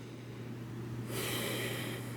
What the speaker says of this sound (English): I just keep sniffing and sniffing.